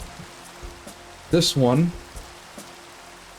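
Rain falls in the video game TerraFirmaCraft, a faint constant patter beneath a voice that speaks briefly, with a few soft taps in the background.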